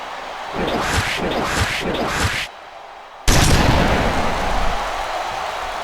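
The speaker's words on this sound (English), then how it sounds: "The Batista Bomb! My God, what an impact!" A Batista Bomb powerbomb slam lands in a WWE SmackDown wrestling video game, a loud booming crash after a run of rapid thuds and a brief lull, with a roaring echoing impact that trails off.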